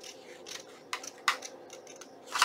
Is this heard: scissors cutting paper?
yes